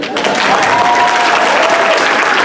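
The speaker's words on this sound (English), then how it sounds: "Applaud him." A comic convention crowd applauds loudly and continuously at a celebrity panel, a dense close wash of clapping with little else over it.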